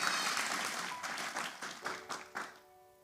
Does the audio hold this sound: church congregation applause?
yes